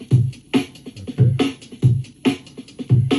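A loaded drum loop playing back on a Native Instruments Maschine Plus groove box, with steady punchy low kicks and bright snare or clap hits in a repeating pattern, clear and alone.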